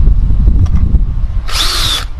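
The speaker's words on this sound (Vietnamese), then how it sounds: "Thì cái mình khoan cái lỗ nhỏ như vậy thôi." A power drill bores a small hole in a plastic bottle for a homemade drip irrigator, a loud close high whine lasting about half a second after low rumbling handling noise.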